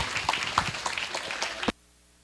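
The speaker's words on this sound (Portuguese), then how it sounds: "agora eu convido a vocês reconhecerem essa palestra com uma salva de palmas" A seated symposium audience applauds a lecture with scattered, uneven claps at moderate volume, then the clapping cuts off abruptly into near silence.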